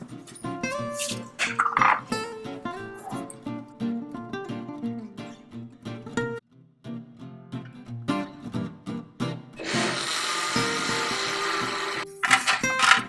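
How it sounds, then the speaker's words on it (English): A blender whirs through the dry ingredients for a sugar-free ragi cake in one short burst of about two seconds, heard over background music. "Now let's put them together and blend it."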